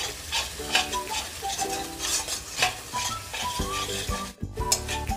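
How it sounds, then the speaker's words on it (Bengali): Spice paste for an egg curry cooking down in a pan, with a soft frying sizzle under repeated scraping and clinking of a spoon against the metal, close and steady, no speech. "মশলা প্রায় আমি ভালোভাবে কষিয়ে নিয়েছি"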